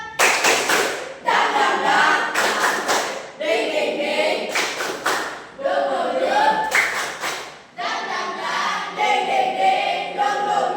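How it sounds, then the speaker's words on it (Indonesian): A school class performs a rhythmic spirit clap together, loud bursts of group clapping in repeated patterned phrases with brief pauses between sets, a few voices faintly mixed in. "Tepuk semangat."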